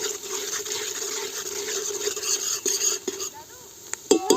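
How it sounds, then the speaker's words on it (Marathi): Coarsely chopped garlic and onion sautéed in oil for a village-style mutton curry, giving a continuous frying hiss with occasional spoon scrapes and light clinks against the pan, close and moderately loud. "मी लसूण टाकला जाडसर आहे. त्याला बी मस्त परतून घ्यायचा तेलात."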